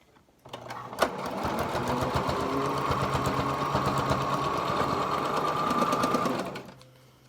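A sewing machine stitches a pleated fabric face mask seam, starting up after a click and running in one fast, even mechanical chatter for about six seconds before stopping, close and alone.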